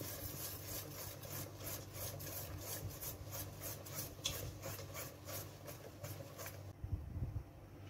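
A whisk beats fritter batter of flour, milk and egg in a bowl, producing a quick, regular rhythm of scraping strokes that stops near the end, close and moderately loud.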